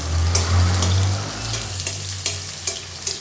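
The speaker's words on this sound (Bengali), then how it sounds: "এবার আমি কড়াইতে তেল দিয়ে বেগুন আর আলুগুলোকে একটু ভেজে নিচ্ছি।" Eggplant and potato pieces frying in hot oil in a wok, giving a loud continuous sizzle with occasional scraping knocks from stirring, no speech.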